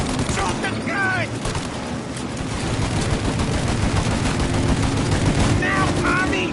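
Heavy Mafia: Definitive Edition shootout, continuous overlapping gunfire and rapid bursts filling the scene, with shouted voices breaking through the barrage.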